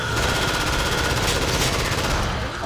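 Rapid automatic gunfire from the Killing Floor video game, a loud, continuous burst of closely spaced shots running the full length without pause.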